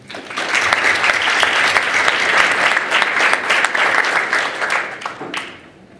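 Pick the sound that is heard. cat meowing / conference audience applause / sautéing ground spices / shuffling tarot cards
conference audience applause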